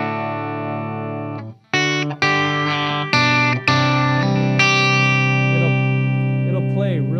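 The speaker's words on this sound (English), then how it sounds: "it'll play really clean, so you get really sharp tones" An electric guitar plays sustained chords through a Metaltronix M-2000 100-watt all-tube amplifier, ringing out clean and bright as each new strum cuts in sharply over the lingering notes.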